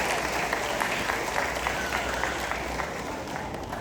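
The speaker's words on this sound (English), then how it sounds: "Let's give them a resounding applause." Audience applause at a high school graduation ceremony, a dense steady wash of many hands clapping, moderately loud and continuous throughout.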